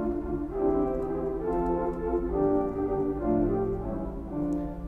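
Several flute stops drawn together on a large five-manual Austin pipe organ sound a full, sustained chordal passage with rich layered pipe tones over a low hum, fairly loud and steady, with nobody talking.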